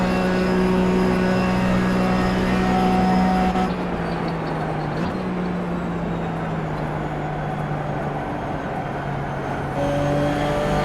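A race car in the iRacing sim circles the Monza banking on a foggy, cool track, its engine droning steadily and loudly at high revs, shifting down briefly midway before pulling again, with no talk over it.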